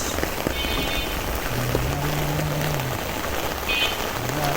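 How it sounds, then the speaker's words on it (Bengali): Steady rain patters densely on a surface, a constant close hiss of drops with a low hum beneath it. "বৃষ্টি তো, বৃষ্টির ছিটায় পুরো শরীর ভিজে ভিজে শেষ"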